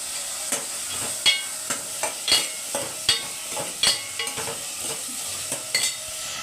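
Mutton pieces and drumsticks frying in hot oil in a pan, a steady close sizzle broken by repeated sharp scrapes and clinks of a stirring spoon at irregular intervals, with no talking.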